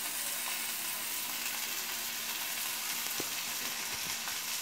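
Ground ivy gourd masala paste sizzles steadily in a pan as it is stirred, a continuous, fairly quiet frying hiss with a few faint scraping ticks and no talking.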